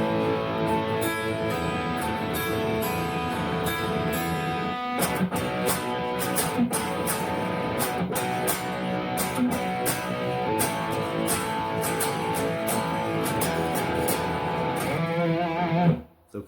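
An electric guitar plays section 1B of a song, a continuous strummed and picked passage at steady volume for about sixteen seconds, ending abruptly, with no talking.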